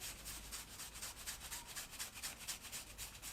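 Close, soft rhythmic rubbing of Modibodi swimwear fabric, quick repeated brushing strokes with a hissy, scratchy texture, no voices.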